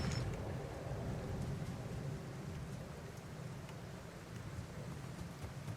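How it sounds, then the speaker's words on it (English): Steady rain and a low rumble of thunder fill the background in the video game The Alters, a soft continuous wash with no voices. "you can always hear the wind and the thunder and the rain while you're out."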